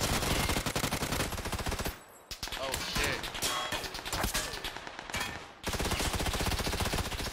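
Dense automatic gunfire in the video game PUBG, loud and continuous, with rapid rattling bursts that break off briefly twice before resuming.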